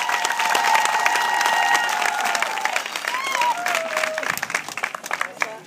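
An audience applauds and cheers loudly as Prime Minister Raphaël Badenga is welcomed at a public gathering, with sustained clapping, scattered shouts and voices mixed into the crowd noise.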